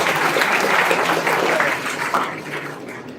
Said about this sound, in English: I request all of you to please give a big round of applause.